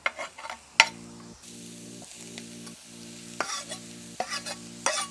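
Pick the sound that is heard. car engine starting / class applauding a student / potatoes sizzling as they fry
potatoes sizzling as they fry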